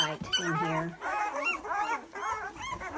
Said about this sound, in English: So there's 12 puppies.